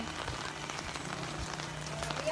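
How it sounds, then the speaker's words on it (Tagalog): Heavy rain drums steadily on a car roof and windows during a downpour ahead of an approaching typhoon, a dense even patter with a low rumble underneath, close and continuous with no talking. "Ang lakas talaga ng ulan kasi may paparating na bagyo or dumating na siya."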